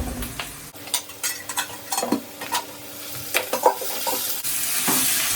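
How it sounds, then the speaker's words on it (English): Ginger garlic paste frying with onions in a pan, stirred with a utensil: soft sizzling underneath repeated scraping and clinking strokes at an irregular pace, close up with no voices. "you have to fry till the ginger garlic smell goes away, the raw smell"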